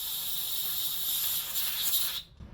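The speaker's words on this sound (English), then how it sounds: "I'm gonna clean this one anyway out with brake cleaner" Brake cleaner sprays in a loud, steady hiss onto a brake part from a Murray riding lawnmower, close up and continuous for about two seconds before cutting off abruptly, followed by faint handling noise.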